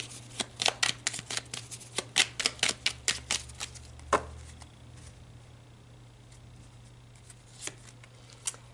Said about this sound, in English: Okay, let's pull one final card.